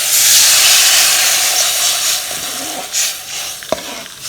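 Tamarind rasam poured into hot oil tempering with curry leaves gives a loud, steady hissing sizzle that slowly fades, with a few small pops and stirring sounds near the end.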